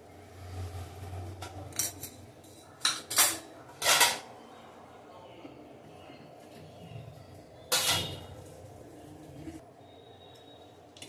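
A pot of Bengali shukto comes off the stove, with a few sharp metallic clanks and scrapes of utensils against the pot, close by and otherwise fairly quiet.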